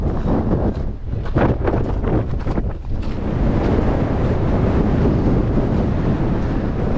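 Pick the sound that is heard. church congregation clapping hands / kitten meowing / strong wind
strong wind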